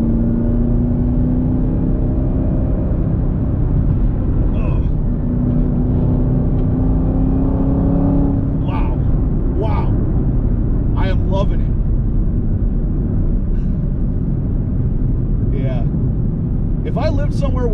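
Rough, rumbling exhaust and engine drone from a 2021 Chevrolet Camaro ZL1 1LE driving over rough Pennsylvania roads, a steady loud cabin rumble with a rising engine tone, heard under someone talking.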